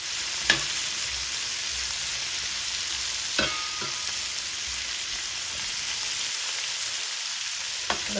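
Masala sizzling steadily in a pan for a fish curry, a constant close hiss with a few sharp clinks of a spoon against the pan.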